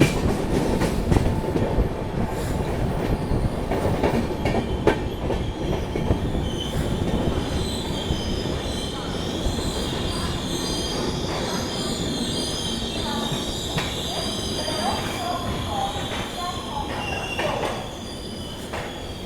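The 12734 Lingampalli–Tirupati Narayanadri Superfast Express runs along the track with loud, continuous rumbling and rhythmic clickety-clack. High metallic wheel squeals keep rising over it, heard close by with no talking.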